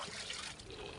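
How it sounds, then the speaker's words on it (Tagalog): Floodwater left by a night of heavy rain trickles and splashes in a steady, close liquid rush, a brief burst of flowing water with no talking. "Dami tubig."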